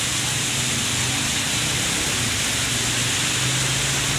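Heavy rain pours down in a dense, unbroken hiss that stays loud and even, with no voices heard.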